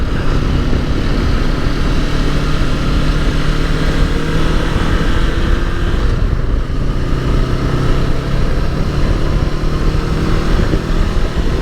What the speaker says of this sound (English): the engine note is just so nice